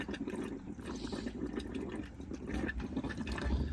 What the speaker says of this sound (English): we're basically waiting for the boiler to become completely full of water and for this tap to start chucking the water out